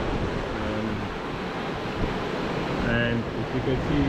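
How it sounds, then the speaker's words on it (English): Strong wind roars steadily over open sea on a sailing boat on passage to the Canaries, with enormous waves and a rushing, buffeting sound throughout while a person speaks briefly. "the wind is so crazy."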